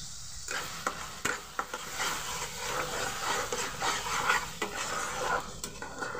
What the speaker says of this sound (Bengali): কাঁচা গন্ধটা কেটে যাওয়া অবধি আমি ভালো করে মশলাটার সঙ্গে কষিয়ে নেব।